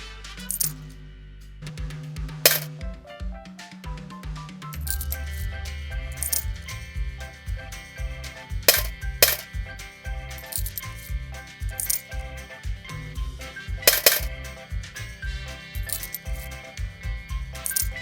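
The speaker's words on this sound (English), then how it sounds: "let me put my coins inside, quick!" Coins clatter and clink as they drop one after another into a homemade cardboard coin bank, a busy stream of loud metallic rattles and chinks with brief pauses and no talk.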